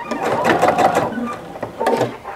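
A sewing machine stitches a fabric placemat with a fast, close mechanical whir, running in a steady burst, pausing briefly, then starting up again.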